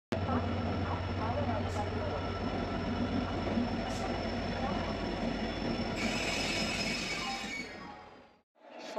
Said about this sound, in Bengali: সকাল 8:50 আমাদের ট্রেন এসে দাঁড়ালো হাওড়া স্টেশনে।